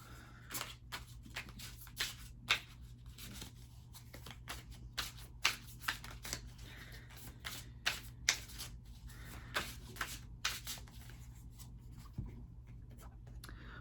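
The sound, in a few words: shuffling a tarot card deck before drawing a card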